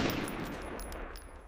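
Gunfire during an armed hostage rescue near a bank: a dense, continuous burst of crackling shots fills the whole short stretch at steady loudness, with no voices.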